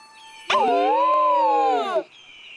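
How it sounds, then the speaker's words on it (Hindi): A loud, sustained warbling call of a fictional poison bird, rising then holding steady for about a second and a half after a sharp onset, with faint background tone around it. "ये तो विष पक्षी की आवाज है।"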